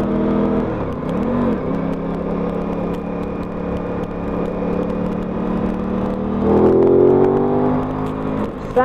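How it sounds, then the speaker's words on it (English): Aprilia RS 660 or Ducati Supersport S motorcycle engine runs steadily and close, its drone dipping briefly early on and swelling into a louder rev near the end, with no talking. "Fantastic noise coming off that engine."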